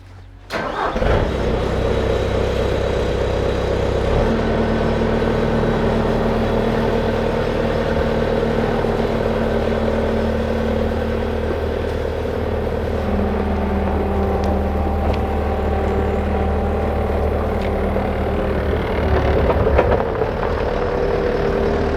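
A skid-steer loader at a worksite cranks and fires up, its engine then settling into a steady, loud mid-pitched idle and running drone that continues for about twenty seconds, close by with no talk.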